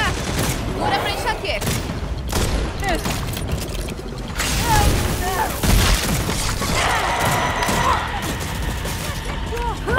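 Rapid shotgun blasts ring out in the Redfall video game amid a dense, noisy mix of combat effects, crashing and clatter during continuous play.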